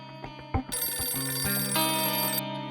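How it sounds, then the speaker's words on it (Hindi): A telephone rings in a home during a family drama scene, a bright continuous electronic ring with a few sharp knocks at the start, close and loud, with no talking over it. "सुहाना का फोन आया लगता है"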